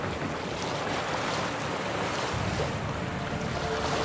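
A boat sailing on open water in The Witcher 3, with a steady rush of water and wind noise, continuous and fairly loud, no voices.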